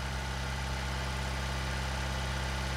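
Steady, low tractor engine idling in Farming Simulator 19, a constant rumbling drone with a heavy low hum and even vibration, running alone without pauses for the whole stretch.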